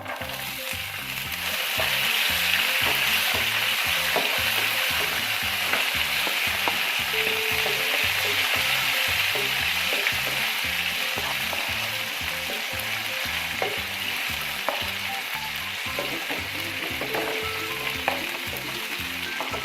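Cashews and raisins fry in hot oil with a steady, loud sizzle that runs the whole time, broken by the scrape and clatter of stirring at a regular rhythm.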